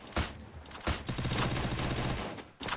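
Gunfire in the battle royale game Garena Free Fire, loud close bursts of rapid automatic shots with sharp cracks and a brief pause, ending in another heavy volley.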